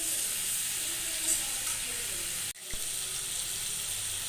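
Papaya and potato pieces frying in a pan, a steady close sizzle that continues throughout, with a brief clatter and dip partway through.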